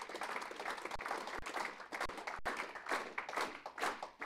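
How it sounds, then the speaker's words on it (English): Audience at a SETI talk clapping together in unison at a steady, slightly quick beat, the shared claps blending into a dense rhythmic patter across a hall. "Just come into some uniform clapping."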